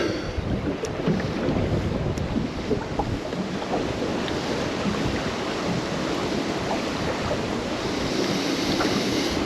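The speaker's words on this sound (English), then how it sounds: "this wind sure does make it interesting" Strong wind roars steadily across open water around a fishing boat, a loud, continuous rushing with buffeting on the microphone and no talking.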